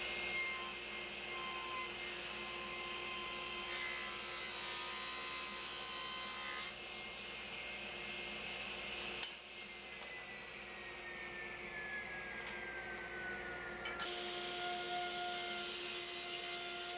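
A table saw rips leftover walnut into strips, a steady high whine with the blade's cutting rasp changing pitch as the wood feeds through, alone with no voices.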